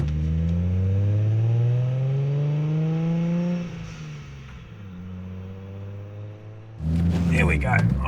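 A Nissan Fairlady Z engine revs hard under load while driving, pitch climbing steadily through a gear before dropping at a shift, then settling to a lower drone and surging again near the end.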